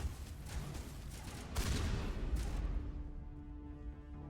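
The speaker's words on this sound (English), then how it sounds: "Shotguns are so good!" Shotgun blasts in a sci-fi shooter game, a burst of booming fire with a heavier blast midway, loud and close, then tailing off into lingering rumble and a sustained tone.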